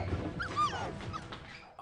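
A puppy whimpers and yips in a video game, short, high, wavering cries over a busy, low background, fairly quiet throughout.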